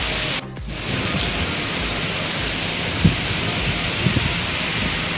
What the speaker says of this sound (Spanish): La verdad que está cayendo la de Dios.